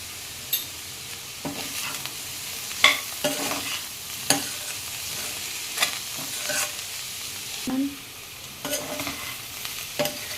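Cabbage curry fries in a pan, giving a soft continuous sizzle with repeated scraping strokes of a spoon stirring it, close and clear, with no voices.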